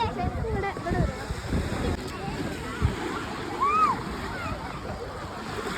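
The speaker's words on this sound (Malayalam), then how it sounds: "നമ്മളിതാ ബീച്ചിൽ എത്തിയിട്ടുണ്ട്" Beach with surf and strong wind, a low washing roar of waves and gusty wind buffeting the microphone, fairly quiet overall, with a voice speaking over it.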